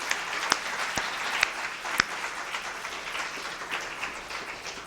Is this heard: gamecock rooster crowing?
no